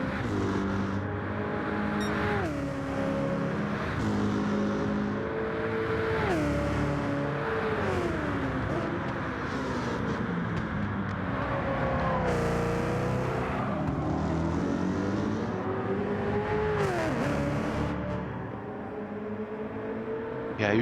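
Supercars race cars drifting through a corner at Bathurst during a test race, engines roaring loud and continuous with repeated rising and falling revs as gears shift, a dense blend of several cars close by.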